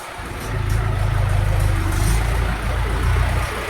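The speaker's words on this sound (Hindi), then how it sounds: "ये देखो अभी अभी ट्रैक्टर आया है, चालू किया है।" A tractor engine on a dung-covered farm yard runs steadily after starting, a loud, close, low rumbling drone that rises slightly and holds with no talking.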